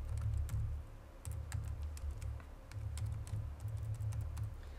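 Computer keyboard keys clatter in quick, irregular bursts of clicks, close and moderately loud, while a value is entered into a free online normal distribution calculator; no voice is heard.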